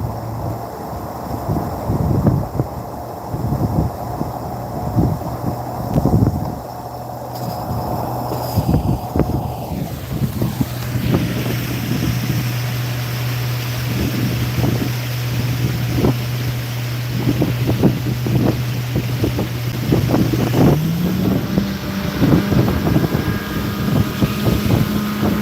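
A motorboat engine drones steadily at speed across open water, loud and close, with wind buffeting the microphone and the engine pitch shifting upward near the end.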